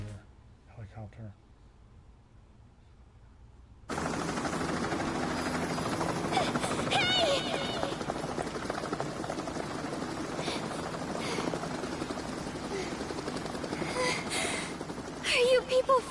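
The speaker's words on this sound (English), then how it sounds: "Helicopter." A helicopter in Danganronpa Ultra Despair Girls on PS4 sets in abruptly after a quiet stretch with brief speech, then holds a loud, dense rotor roar throughout.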